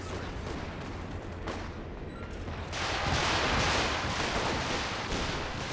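Artillery barrage in the Company of Heroes 2 strategy game, a dense rumbling wash of distant explosions that swells and thickens about halfway through and keeps rolling steadily to the end, with no talk over it.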